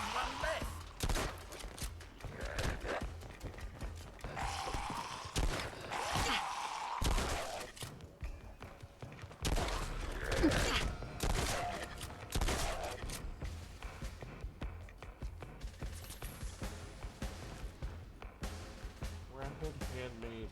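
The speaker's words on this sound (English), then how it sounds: "Rapid handmade machine gun." Rapid handmade machine gun firing in the Fallout London video game, repeated fast bursts of automatic fire with short gaps, mixed under someone talking over much of the stretch.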